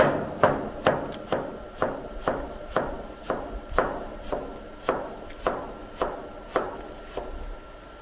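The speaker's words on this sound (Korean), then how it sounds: "칼질, 칼질 너무 잘한다" A knife chopping food on a cutting board at a campsite in Yellowstone, steady rhythm, about a dozen crisp thuds spaced evenly, close by with no talking.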